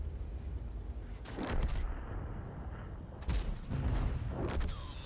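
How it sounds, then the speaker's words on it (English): Artillery fire in World of Tanks: distant booming impacts, two clusters of rumbling blasts over a low steady battlefield drone, moderately faint with no talk. "But artillery is staggering its fire"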